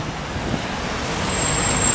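A bus motor rumbles past on a city street in Montreal's Ville-Marie district, a low steady drone rising slightly as it nears, with traffic noise around and no talk.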